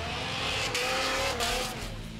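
A Dodge Viper drift car at a Formula D event roars loudly at close range while its tires squeal in long, shifting screeches over the engine noise, steady and intense throughout.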